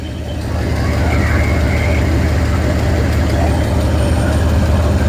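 A car engine with a Holley carburetor idles loud and close, a steady low rumble that holds even throughout with no talk over it.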